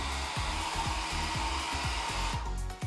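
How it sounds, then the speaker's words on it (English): A hair dryer blows steadily and close while drying an emulsion-coated screen for making a PCB at home, with a rhythmic rubbing or scraping texture running underneath the constant airflow. "Then I dried the screen with a hair dryer."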